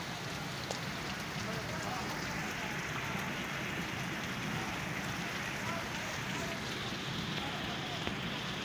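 Heavy first monsoon rain in Taunsa Sharif, Pakistan, pours down steadily, a dense continuous hiss and patter that fills the whole stretch without letting up.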